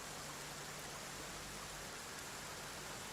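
Continuous soft rain wash from the weather effect in Satisfactory, a uniform dense hiss at low level with no pauses or voices.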